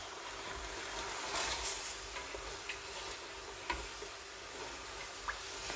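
Beef massaman curry with coconut milk boiling in a pot, a steady soft bubbling and simmering hiss with occasional small pops and clinks, close and fairly quiet, with no talking.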